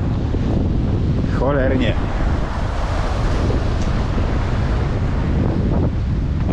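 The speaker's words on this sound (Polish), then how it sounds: "Ale dmucha." Strong wind blowing at the harbour in Cambrils, a loud constant roar buffeting the microphone with surf-like rumble throughout, while someone speaks briefly over it.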